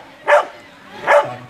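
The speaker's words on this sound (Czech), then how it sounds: "Štěkání." A customs service dog barks on command during a training demonstration, giving two sharp, loud barks about a second apart, close by and clear, with nothing else competing.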